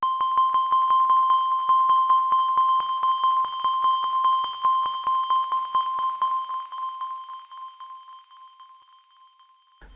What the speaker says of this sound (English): I'm just going to press middle C on my keyboard a bunch of times and record it.